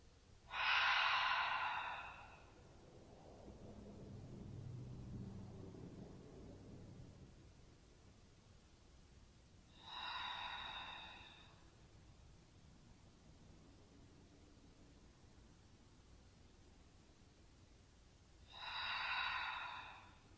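Slow, deep breaths during a post-snowshoeing yoga stretch: a long airy inhale through the nose, a soft lower exhale through the mouth, then two more inhales spaced about eight seconds apart, close and calm with no talking.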